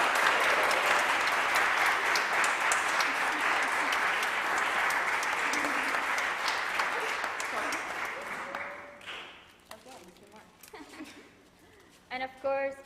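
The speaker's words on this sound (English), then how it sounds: "A big applause to her as well." An audience at an industry and alumni day event breaks into sustained, dense clapping that holds strong before thinning and fading out, with a few scattered claps and murmurs near the end.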